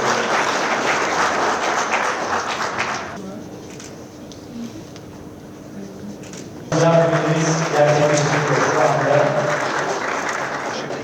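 An audience at an energy investment protocol signing ceremony in Karatay claps in two bursts, a loud opening stretch that fades, then a fresh surge; someone speaks over the quieter middle.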